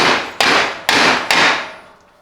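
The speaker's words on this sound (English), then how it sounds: "So I can beat this cotter pin" Three loud, evenly spaced metallic hammer strikes on a cotter pin in a Toyota J160 transmission, each ringing briefly before the next blow, then fading out at the end.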